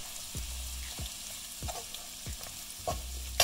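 Ginger garlic paste being roasted in a pan for amla pickle, a soft frying hiss broken by regular dull knocks from stirring roughly every half second.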